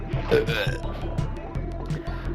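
A deep, drawn-out burp close by, with a few short vocal noises trailing after it.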